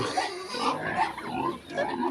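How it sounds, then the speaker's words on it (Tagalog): Pigs grunting and squealing up close, a continuous jumble of snorts and oinks with no voices. "Tapos may baboy tayo dito mapakainin."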